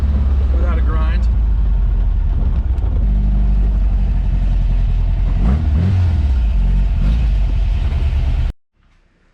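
A Porsche 914 on the road with its engine rumbling loudly up close, revving and dropping as it shifts into second gear, and someone talks over it before the sound cuts off abruptly.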